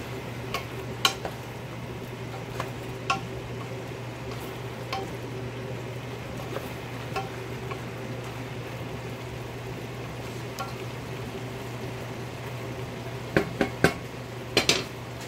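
Chicken curry being stirred in a pan with a utensil, soft sizzling under a steady low hum, with scattered scraping and clinking knocks and a cluster of sharper utensil taps near the end.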